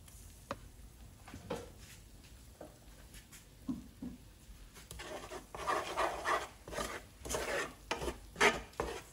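Egg being stirred into spicy Maggi noodle masala in a pan, with soft scraping and stirring strokes that grow busier and louder toward the end, sizzling faintly underneath.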